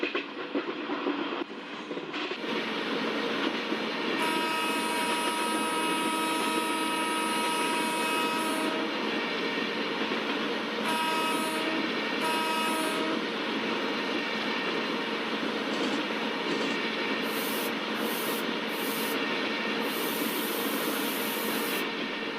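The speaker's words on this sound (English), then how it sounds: "Mumbai Central Valsad fast passenger with the VAP4 locomotive, which is crossing our train with a high speed" A fast Mumbai Central–Valsad passenger train hauled by a WAP4 electric locomotive, with mixed Utkrisht and ICF blue coaches, rushes past at high speed, a loud sustained roar with rail rumble and rising squealing tones, heard alone.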